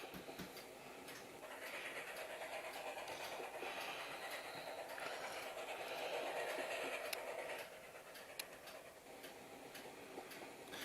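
An Amtrak P42 locomotive in the Train Sim Pro mobile game rumbles along with a steady, faint rolling drone and a regular ticking, clickety-clack beat of wheels over rail joints, with no voices.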